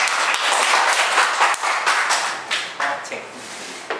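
An audience applauds in welcome of Professor Zhang at a lecture on Chinese culture, a dense, steady clapping that fills the room for about four seconds, tapering slightly near the end.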